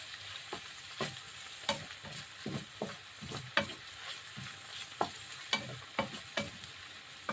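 Igado Ilocano meat sizzles in a pan while being stirred, with a dozen or so sharp scraping clacks of the utensil against the pan over a soft frying hiss, close and quiet.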